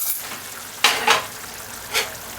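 A spoon stirs a pot of brown stewed cow's kidney on the stove, making three short scraping swishes over a soft simmering hiss, close and moderately loud.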